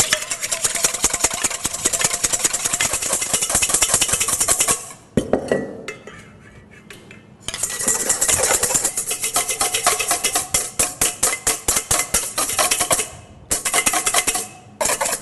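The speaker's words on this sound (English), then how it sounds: "The egg whites should be at room temperature so that when I whisk them, they whisk up frothy." Egg whites with cream of tartar whisked in a bowl, likely with an electric mixer for crepes, a loud steady motorized whir with rapid rattling against the bowl, pausing briefly in the middle before resuming.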